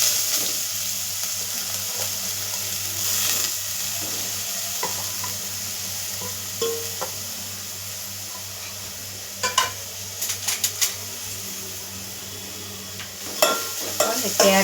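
Carrots stir-fried in ghee in a pan give a low continuous sizzle, with a few sharp clinks and scrapes of stirring bunched toward the end; no one speaks.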